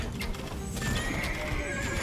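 Horse archers' horses in the Age of Empires 2 strategy game, with quick clip-clop hoofbeats and whinnying neighs over a busy battle backdrop, fairly close and moderately loud.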